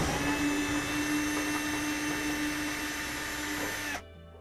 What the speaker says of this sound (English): let's undo those screws